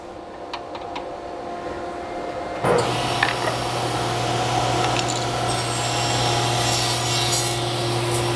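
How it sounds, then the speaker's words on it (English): Table saw trimming a wooden drawer board: faint shop noise, then the motor starts with a sharp jump into a loud steady whine and the blade cuts through the wood, close and continuous. "Now I'm going to go back over to the table saw and trim it down to 3."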